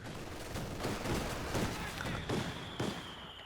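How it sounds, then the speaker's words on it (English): Artillery rounds land in the Company of Heroes 2 strategy game, a rapid series of dull booming impacts and crackling gunfire, moderately loud with a faint tone near the end. "And there are those rounds coming in."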